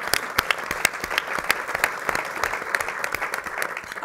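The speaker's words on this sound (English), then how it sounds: "You can clap for that." An audience applauds during a public address on Chicago city finances: dense, steady clapping at moderate loudness for several seconds, with no talk over it.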